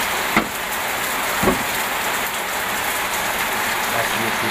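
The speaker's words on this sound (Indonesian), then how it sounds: "Hujan ini." Steady, heavy rain hissing continuously on a surface, with a couple of louder knocks standing out near the start.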